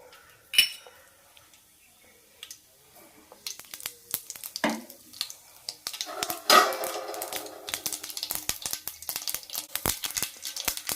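Mustard seeds spluttering and popping in hot oil while cooking hotel-style rava kichadi, starting as sparse crackles and building into a dense, loud, continuous sizzle of sharp pops with occasional clinks of a utensil, no voices.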